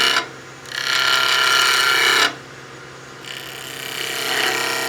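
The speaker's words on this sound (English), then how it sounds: "We'll step it down in a series of V-cuts." A skew chisel cutting a series of V-cuts into square wood sections spinning on a lathe: two long, bright, close scraping cuts separated by a lower hum of the spinning lathe, with no talking.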